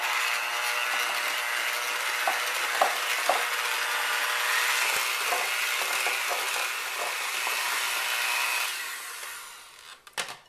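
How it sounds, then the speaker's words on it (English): An electric hand mixer whirs steadily through pumpkin coffee cake batter in a bowl, a close, continuous buzzing hum with a few faint knocks, then switches off near the end. "And I'm going to mix this together with my mixer."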